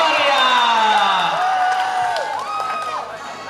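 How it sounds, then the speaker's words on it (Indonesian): A school pageant audience in Palembang cheers and claps, a loud crowd roar with whoops and shouts that fades slightly toward the end, with a voice carrying over it. "Beri tepuk tangan yang meriah"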